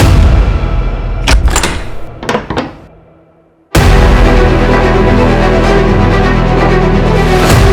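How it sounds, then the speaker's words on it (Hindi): Several heavy thuds strike a house door as it is broken down, then it gives way into a sustained loud, noisy rush. "दरवाजा तोड़ो"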